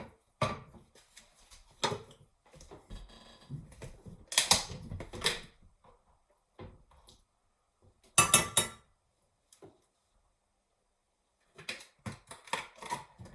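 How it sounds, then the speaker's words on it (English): Pasta being stirred in a pot on a stove, giving bursts of clinking and scraping from a utensil against the pot, loud and close, separated by quiet gaps. "Now why don't you give that a little stir? The pasta."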